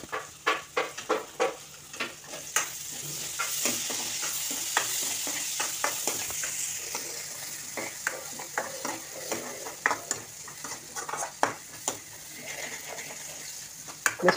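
Coriander leaves and curry leaves stir-frying in hot oil for egg podimas, with a steady close sizzle broken by frequent sharp scrapes and taps of a spoon against the pan.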